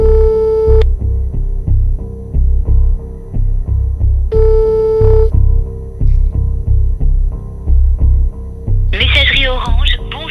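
A French phone call's ringback tone: two long beeps spaced a few seconds apart over a throbbing hum, followed by a recorded voice answering.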